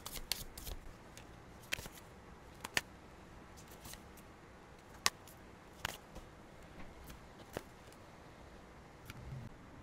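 Tarot deck shuffled and cards drawn and laid down for a weekly reading: soft papery riffling with scattered sharp snaps and taps, faint and close, no voices.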